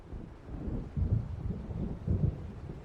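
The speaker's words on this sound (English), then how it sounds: "It seems there's a storm coming." Thunderstorm approaching in the video game Alan Wake Remastered, heard as low rolling rumbles of distant thunder swelling twice over soft wind and rain.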